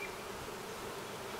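Honeybees buzz around an opened hive in late July with its supers and queen excluder exposed, a steady dense hum of many insects close by, no voices.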